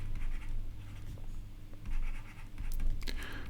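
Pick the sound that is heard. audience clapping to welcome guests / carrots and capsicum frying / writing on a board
writing on a board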